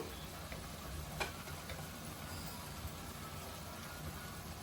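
Mutton curry bubbling and simmering in a pot, a quiet, steady sizzle with soft popping and one brief sharp tick partway through.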